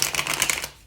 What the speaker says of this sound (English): I'll give the deck a few more shuffles here.